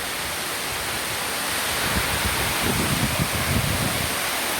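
A tall waterfall in Garcia-Hernandez roars as a steady, loud broadband wash of falling water, continuous and close throughout, with slightly heavier surges partway through.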